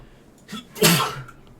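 A single close, sharp human sneeze with a brief inhaled lead-in, bursting loudly and fading quickly in a quiet indoor room.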